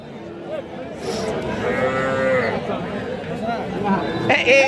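Young calf mooing at a busy cattle market, several short bellows rising over steady crowd chatter and bargaining voices, fairly close and loud throughout.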